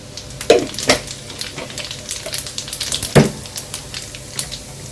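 Loud sizzling of cumin seeds and chillies hitting hot oil, with sharp crackles and pops over a steady frying hiss, heard close with no talking.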